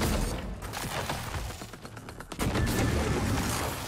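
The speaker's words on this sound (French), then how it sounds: "Ok, moi aussi je tire." Gunfire in the video game Prey, bursts of shots and impacts over dense game noise that grows louder and more sustained in the second half.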